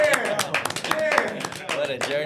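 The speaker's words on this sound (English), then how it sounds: "Clap it up for yourself." A small group of people clapping with uneven, scattered claps amid cheering voices and chatter, close and fairly loud.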